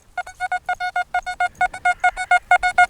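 Rapid series of short, bright electronic beeps from a small buzzer-type metal detector signal, about twenty evenly pulsed tones repeating loud and close with brief gaps between them.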